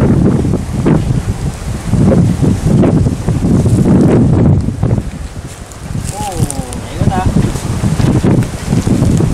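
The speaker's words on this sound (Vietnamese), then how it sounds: "Quá gió rồi." Strong wind roars across open water and the microphone while fishing on a canal in Kiên Lương, heavy gusting rumble filling the whole stretch, with someone talking underneath and a brief reel whine near the end.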